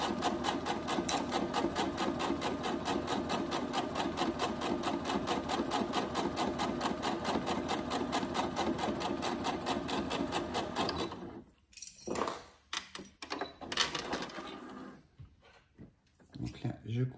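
A sewing machine topstitches fabric for a budget envelope, running at a steady, rapid stitching rhythm for about eleven seconds before stopping, followed by scattered handling and cutting noises.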